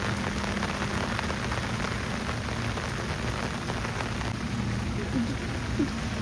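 Steady heavy rain pours down in Canada, a dense continuous hiss of drops hitting surfaces, unbroken for the whole stretch.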